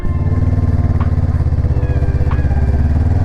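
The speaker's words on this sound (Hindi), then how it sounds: "एग्जॉस्ट नोट सुन के एकदम मन को तृप्ति मिल जाती है" A Honda NX500 motorcycle exhaust rumbles steadily up close, a deep throbbing note with a slight lumpy pulse, loud and continuous with no talk.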